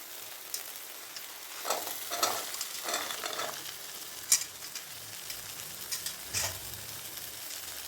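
Cut carrots and beans drop into hot oil for a vegetable biryani, giving a steady close sizzle of frying with a few louder scrapes and clatters as they are stirred in.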